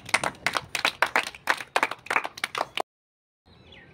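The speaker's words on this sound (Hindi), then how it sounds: "ऋतिक के लिए जोरदार ताली लगा दीजिए जी।" Children clapping for the winner of a classroom in-and-out circle game: rapid, uneven handclaps in bursts, loud and close, stopping abruptly near the end before faint background noise.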